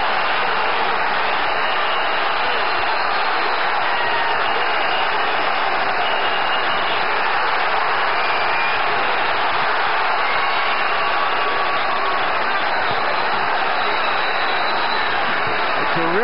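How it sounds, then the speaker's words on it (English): A boxing arena crowd roaring and applauding at a Felix Trinidad vs William Joppy fight, a dense, steady wash of cheering with no breaks. "And the pro-Trinidad crowd comes to life."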